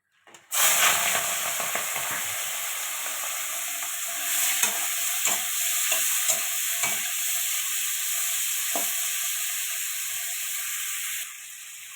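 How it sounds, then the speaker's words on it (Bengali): Shrimp, coated in salt and turmeric, sizzles in hot oil in a kadai with a steady, close frying hiss for about ten seconds, with occasional stirring scrapes and no speech. "চিংড়ি মাছটা ভেজে নেওয়ার জন্য তেল দিয়ে দিলাম"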